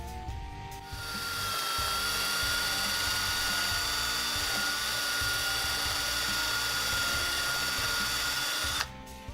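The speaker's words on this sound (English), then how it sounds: "we're going to go ahead and hit these with a wire brush, clean these threads up a little bit" Wire brush scrubbing rust and grime off bolt threads pulled from a Ford F100 brake job, a steady, loud, continuous grinding whir running nearly nine seconds without a break, then cutting off.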